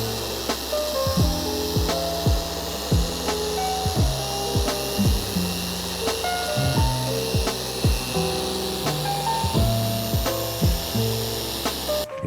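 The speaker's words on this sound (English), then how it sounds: "We're just doing a paint enhancement, a really quick pass with the machine just to bring out gloss." A machine polisher makes a quick paint enhancement pass over a car's paint, its motor whirring close and steady with a pitch that rises and falls as it sweeps back and forth.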